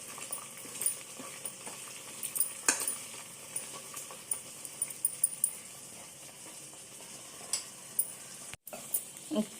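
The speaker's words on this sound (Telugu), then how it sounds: "మసాలా, మొత్తం అంతా కొంచెంసేపు బాగా వేగనివ్వాలి" Spice masala frying in a pan for an egg pickle, a faint steady sizzle with occasional light stirring scrapes and clinks, quiet and continuous.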